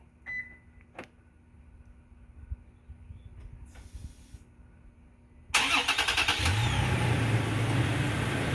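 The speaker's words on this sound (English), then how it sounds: "press lock 3 times to start the vehicle" A 2020 Toyota Tacoma SR5's engine is started by a remote starter: after a quiet stretch with a few faint clicks, the engine cranks abruptly and settles into a loud, steady idle close by.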